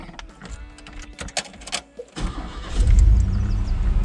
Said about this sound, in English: Let's make sure it still starts.